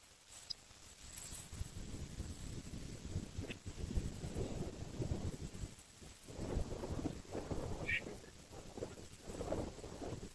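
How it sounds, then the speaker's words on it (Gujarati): Strong wind blowing outdoors, buffeting the microphone with continuous low rumbling gusts that rise and fall in waves for the whole stretch. "પવન એવો છે ને આ બધા ઉડી જાય છે"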